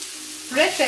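Green chilies drop into onions frying golden brown in a pan over medium-low heat, a steady low sizzle swelling into a brighter, louder crackle as they hit the hot oil.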